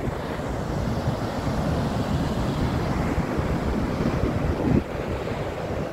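Atlantic surf at Vila do Conde beach, Praia da Areia in Árvore, Portugal: continuous roaring waves washing ashore with steady wind buffeting the microphone, no voices.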